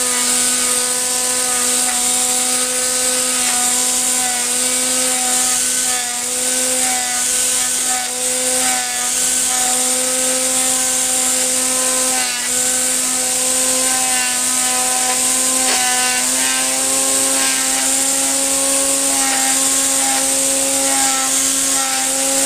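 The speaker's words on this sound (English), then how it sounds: "what I'm going to have to do to actually edge here is to put the trimmer upside down and" A string trimmer running continuously upside down to edge a lawn, its steady high-pitched engine whine with strong harmonics holding for the whole stretch, loud and close with no talk over it.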